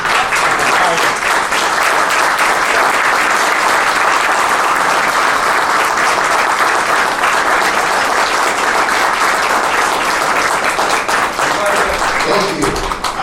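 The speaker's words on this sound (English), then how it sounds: "you're applauding for me" Loud, sustained applause from a large audience at a Chamber of Commerce public safety event honoring deputy sheriffs and police officers, a dense continuous wash of clapping that holds steady throughout with no talking over it.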